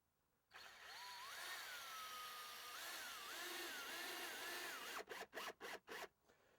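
A power driver whirs steadily as it drives screws to fasten a wooden stair riser to a tread, its pitch wavering under load, then finishes with several short, sharp bursts.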